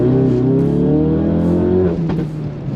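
A Ford Focus RS MK3 with a Revo Stage 1 remap pulls hard, its engine note climbing loudly and steadily through the rev range before easing off with a gear-change lull.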